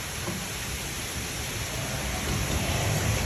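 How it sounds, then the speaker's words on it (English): Steady rain and wind from Hurricane Idalia make a dense, constant roar with no breaks, and the rumble grows slightly stronger toward the end. "It's raining again, and it is windy."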